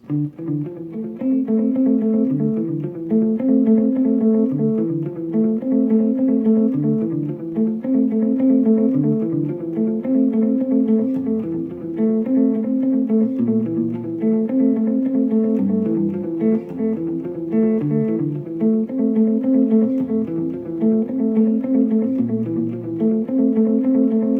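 Clean electric guitar playing a repeating melodic riff, notes echoing and overlapping with delay, steady and close.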